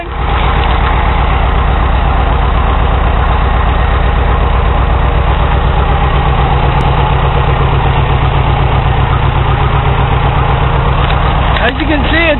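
A Case 400 tractor engine idles steadily and loudly throughout, with an even low-pitched firing rhythm close to the microphone and a brief clatter near the end.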